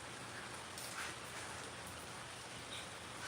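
Steady rain falls outside a home as a soft, even hiss with no voices or other sounds, faint and continuous throughout.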